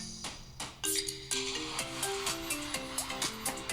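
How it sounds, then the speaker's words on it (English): A new phone ringtone plays a bright synthesized melody of repeating tonal notes with steady rhythmic beats, loud and close, with no talking. "Can I share my new ringtone?"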